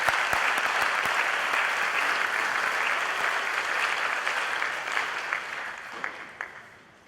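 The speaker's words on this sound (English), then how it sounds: "So another round of applause for Sarah." Applause from an awards-night audience for a scholarship recipient, a steady dense clapping that holds for several seconds, then thins into a few scattered claps and fades out.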